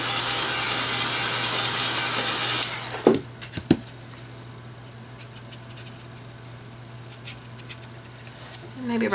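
A handheld dryer blows steadily over wet acrylic paint, a loud broadband whoosh for the first few seconds that cuts off, leaving quiet brush taps and small clicks before the airflow starts to rise again at the end.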